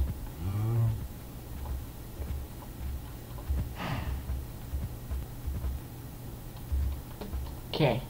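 Cows mooing in a video game, one short low moo near the start and another near the end, over quiet ticking game sounds while a player talks.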